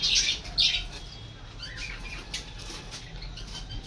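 Lovebirds with their five chicks flutter and give a couple of sharp, close chirps near the start, then settle into soft rustling and faint scattered peeps over a low background hum.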